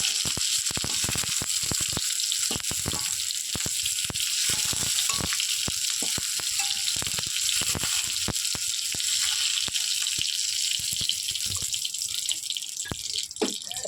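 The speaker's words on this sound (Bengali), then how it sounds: "পটলগুলোকে কিন্তু আমি এখানে ভালো করে লাল লাল করে প্রায় ভেজে নিয়েছি।" Pointed gourd (potol) pieces frying in hot oil in a pan, a continuous dense sizzle with irregular crackles and pops running steadily throughout.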